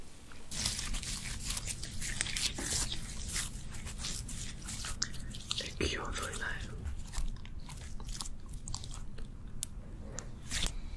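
Chewy rubbery rice cake (tteok) bitten and chewed close to the mic in an intimate ASMR setting, with repeated squishy, wet bites and soft crunches over about ten seconds.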